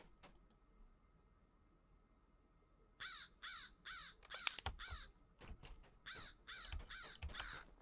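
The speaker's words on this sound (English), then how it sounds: "And yes, crows do sound this way." Crows caw in Lord of the Rings Online, a run of harsh repeated calls breaking in after a few quiet seconds in a pipeweed field, several birds overlapping with sharp clicks between.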